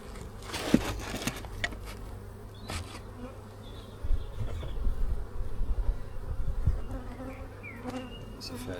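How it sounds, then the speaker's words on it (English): Dense, continuous buzzing of many honey bees in an opened hive during an inspection, close and steady, with a few faint handling knocks. "Right at the top, loads of bees."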